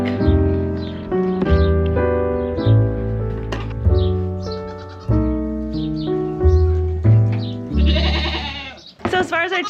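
Dairy goats on a farm bleating repeatedly, loud close wavering calls overlapping one another in an irregular series, with a few short higher chirps between them.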